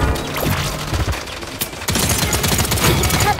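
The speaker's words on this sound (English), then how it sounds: "Enemies are firing on me." Dense enemy gunfire in the PC shooter Paladins, a loud continuous barrage of rapid shots with crashing impacts, no talking over it.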